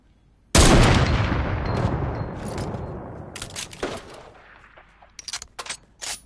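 Sniper rifle fired in Fortnite Battle Royale: one loud sharp crack with a long decaying rumble, followed by a few fainter scattered shots and clicks in the distance.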